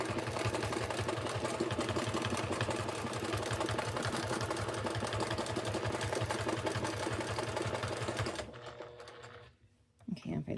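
A sewing machine stitches a quilted table runner, its fast, even needle rhythm running close and steady for about eight seconds before stopping, leaving quiet handling sounds.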